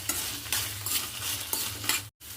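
Okra and green chilies frying in a pan while being stirred, a steady sizzle with repeated scraping strokes roughly every half second, close and moderately loud, briefly cutting out near the end.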